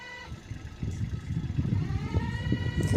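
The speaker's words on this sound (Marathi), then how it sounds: "तो क्लच नॉईजचा आवाज आहे." A Kubota tractor idles and revs with a faulty clutch, giving a rough, clattering mechanical rattle with tonal engine whine, growing louder over a few seconds, close to the microphone.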